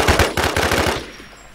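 A rapid burst of automatic gunfire from the survival shooter Infestation, about ten loud close shots in quick even succession, then a fading tail of echo with no voices.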